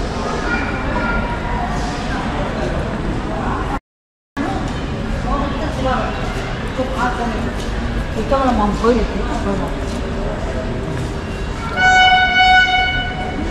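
A train at Rayagada railway station rumbles and clatters steadily with station bustle. People talk throughout, and a brief horn blast rings out near the end.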